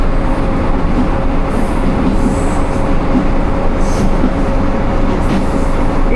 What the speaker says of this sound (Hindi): बुद्धू रेलवे स्टेशन को स्किप कर रही है 40 टाउन जाफ़र एक्सप्रेस